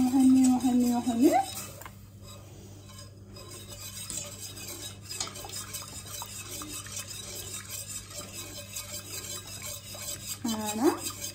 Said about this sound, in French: On remue, on remue, on remue.